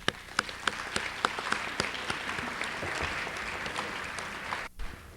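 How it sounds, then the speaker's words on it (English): An audience applauds honor society students at a high school ceremony, steady sustained clapping from a crowd with a few sharper claps standing out, fading briefly near the end. "I think they deserve a round of applause."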